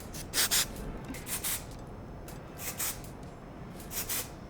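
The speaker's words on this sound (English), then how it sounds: "We're gonna use our humidity blocking hairspray" Several short hissing sprays of humidity-blocking hairspray onto hair, close by, in quick pairs and bursts separated by brief pauses over a quiet background.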